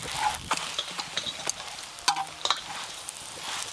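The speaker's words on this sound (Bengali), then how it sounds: "তার জন্য পরোটাটা ঘুরিয়ে ঘুরিয়ে আমাকে ভাজা করতে হচ্ছে।" A paratha fries on a pan and is turned repeatedly, a soft sizzle broken by sharp scraping and tapping clicks from the spatula at an uneven rhythm.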